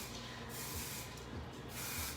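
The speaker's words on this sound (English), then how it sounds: "I'm just taking our dry texture spray." Dry texture spray misted onto long hair during a salon haircut, a steady close hiss of aerosol lasting about two seconds with brief dips.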